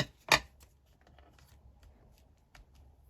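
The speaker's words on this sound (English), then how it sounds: "just snip that off" A single crisp snip of scissors trimming lace for a journal page, close and sharp near the start, followed by faint paper rustles and a second small click later on a quiet background.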